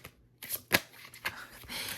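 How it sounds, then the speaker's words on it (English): A deck of tarot cards is shuffled by hand in quick riffles and flicks, close and crisp, with short bursts separated by brief pauses and no talking. "let's keep shuffling"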